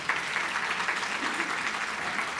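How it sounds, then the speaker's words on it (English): A crowd at a college Juneteenth celebration applauds a performer, a dense, even wash of clapping held at moderate volume throughout. "So let's give a round of applause to Daniela."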